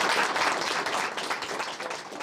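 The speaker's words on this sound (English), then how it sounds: "I think we've clapped a couple times, and we'll clap again." Audience at a school board meeting applauding, a dense, steady burst of many hands clapping from a crowd in a meeting room.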